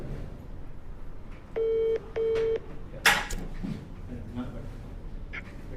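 A phone number being dialed, with two distinct dialing tones in quick succession followed by a sharp click, amid room noise and quiet voices.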